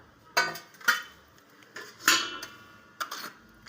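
A metal plate in a kitchen is picked up and set down, giving several sharp clinks and clatters in an irregular rhythm, close by and otherwise quiet.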